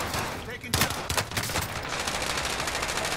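Gunfire in Call of Duty: Warzone on Rebirth Island, rapid automatic bursts that are loud and fairly close, running almost without a break over a dense, noisy battle background.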